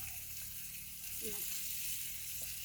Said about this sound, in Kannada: ಫ್ರೈ ಆಗ್ತಾ ಇದೆ ನೋಡಿ, ಎಷ್ಟು ನೀಟಾಗಿ ಫ್ರೈ ಆಗಿದೆ ನೋಡಿ